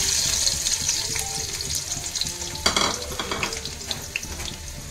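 About 250 grams of sliced onions sizzle in hot oil in a pan alongside whole spices such as cinnamon, a steady close crackling fry with occasional stirring scrapes and no talking.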